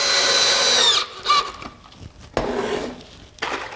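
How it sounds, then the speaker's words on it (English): Drill driving pocket hole screws into wood, a short high-pitched motor whine that winds down, followed by two more brief bursts of drilling and handling clatter, close up. "I'm going to go ahead and just put all of my pocket hole screws in"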